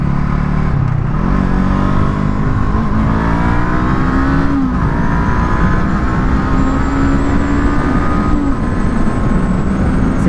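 Brixton Crossfire 500 motorcycle engine revving hard while shifting through gears, a loud, continuous close-up roar whose pitch climbs and drops with each gear change.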